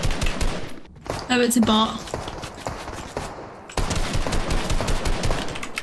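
Rapid, loud bursts of automatic gunfire from the video game Fortnite OG ripple close by in dense volleys, broken by a short pause, while players talk over the shooting.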